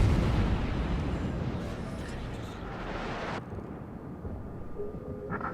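Torpedo hits strike a ship in World of Warships, with heavy, booming underwater-style explosions rumbling loudly and fading out, followed by a quieter stretch of lighter battle noise.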